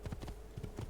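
Horse hooves clip-clop in Assassin's Creed 2, a quick steady run of soft thuds over a dense game backdrop, close and moderately loud.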